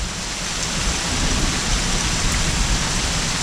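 Steady rain pours down outdoors among pine trees during a calm-wind storm, a dense continuous hiss with low rumbling undertones, loud and close, with no voices.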